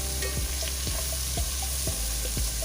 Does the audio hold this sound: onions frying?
yes